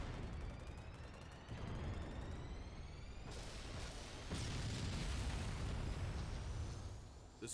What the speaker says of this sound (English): The Scarab is destroyed.